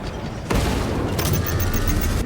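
A grenade blast in the video game Space Marine II, heard as a sudden heavy boom over continuous battle noise and gunfire, loud and close, with a rumbling tail and no talk.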